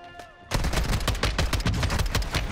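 SO-14 rifle fired in the game Warzone: after a quiet start, a rapid burst of loud, closely spaced gunshots runs to the end of the clip.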